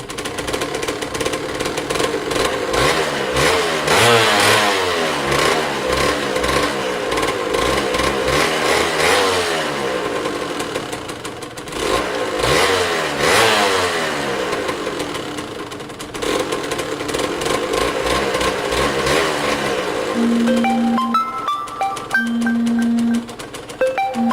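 Kawasaki KDX 125 two-stroke motorcycle engine running with the choke on, revving loudly and repeatedly in rising and falling surges over a steady idle, close to the microphone, with some clicking near the end.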